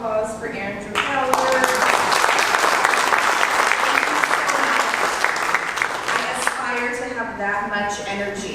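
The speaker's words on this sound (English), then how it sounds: "We have one more round of applause for Andrew Ballard" A crowd's round of applause for Andrew Ballard at a business gathering, loud sustained clapping from many hands that swells and then fades, with voices talking and cheering over it at the start and end.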